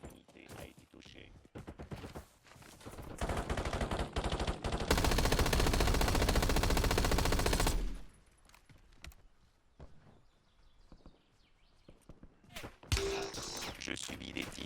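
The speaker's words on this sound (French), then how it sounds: "Je subis des tirs." Rapid automatic gunfire erupts in a Warzone battle royale match, a dense sustained burst with scattered single shots before and after, while a voice speaks in the game.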